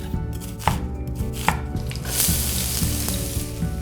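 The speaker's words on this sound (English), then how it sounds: "Today for this I'm using a red onion, and I'm going to finely chop this too." A knife finely chopping red onion on a cutting board, steady rapid taps close up and fairly loud, with a faint sizzle of frying in the background.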